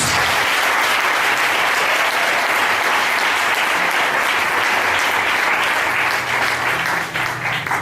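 A church congregation bursts into loud, sustained applause and acclaim for Jesus, a dense steady roar of clapping that holds throughout and eases slightly at the very end.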